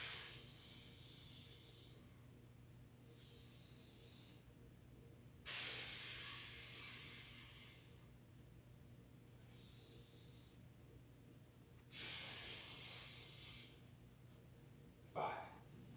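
Forceful breaths hiss out in three long exhalations, spaced several seconds apart and close to the microphone, during an at-home mobility exercise, with quiet room hum between them and a short sharp sniff near the end.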